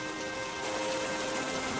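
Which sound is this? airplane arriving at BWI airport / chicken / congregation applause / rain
rain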